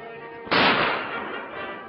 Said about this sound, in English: what were those shots in the garden?